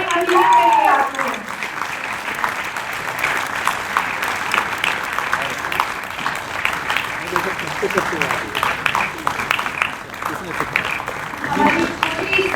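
A crowd claps steadily for several seconds while a voice speaks over the applause.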